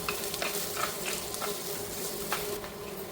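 Chopped onion and split green chillies sauté in a pan for a Kerala-style drumstick leaf curry, a steady close sizzle broken by several scraping stirs of a spoon at irregular intervals.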